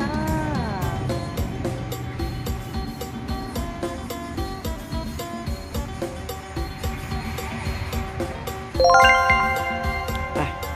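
A jingly notification bell sound effect rings through a bright, repeated tinkling pattern with a louder chime burst near the end, alone without talk.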